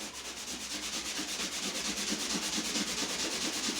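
Steady rhythmic back-and-forth rubbing of a wet sanding sponge over drywall joint compound, close and fairly loud, with no voices.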